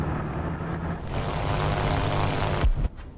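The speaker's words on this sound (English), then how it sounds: "Plane is really loud and obnoxious, I'm not gonna lie." A propeller warplane engine roars loud and steady in the War Thunder game, building as it passes overhead and then cutting off sharply near the end.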